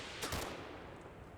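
Distant gunfire in the Combat Mission wargame, a short faint burst of several shots that quickly gives way to a low rumbling background.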